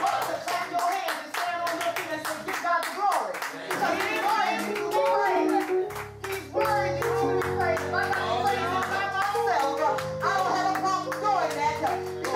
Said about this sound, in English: You ought to clap your hands and stand on your feet and say, give God the glory.